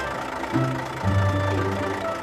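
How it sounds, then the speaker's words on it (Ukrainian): Low rumbling engine of a big dump truck carrying cubes, a steady mid-level drone that swells twice as it revs briefly, with no talking. "А це великий самоскид із кубиками."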